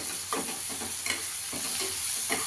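Masala of coriander powder and Kashmiri chili powder frying in a pan, a steady hissing sizzle broken by several soft scraping stirs at irregular intervals.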